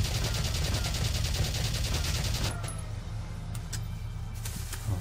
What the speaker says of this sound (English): Twenty shots.